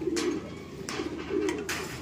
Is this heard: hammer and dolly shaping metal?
no